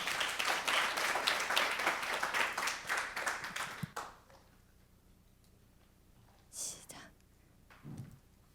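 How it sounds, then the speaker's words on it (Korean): An audience applauds to welcome the Jeju Sinseong Girls' Middle School team, with dense clapping for about four seconds before it stops abruptly, followed by near silence and a few faint rustles and soft sounds. "제주 신성 여자 중학교 소시지를 큰 박수로 맞이해 주시기 바랍니다"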